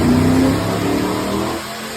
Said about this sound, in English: Car rear wheel dyno.